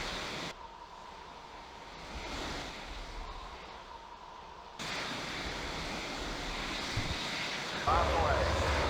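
Aircraft engine noise from the Falcon 4.0: Allied Force flight simulator with an F-16 Block 32, a steady mid-level jet roar and rushing air that shifts and brightens partway through, with someone talking over it.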